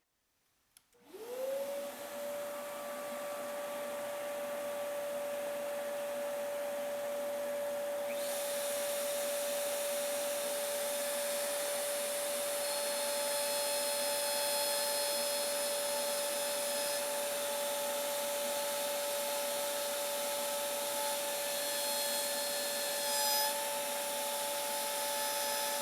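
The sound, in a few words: power tool cutting wood with dust collection running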